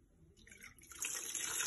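Lime water trickles into tamale dough, a faint splash that grows into a steady pour within the second half, close and alone.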